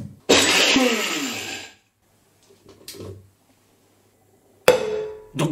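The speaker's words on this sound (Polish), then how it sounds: "Zmiel orzechy." A loud electric grinder grinding nuts whirs for over a second, stops, then a short rattle follows; after a pause the motor starts again abruptly.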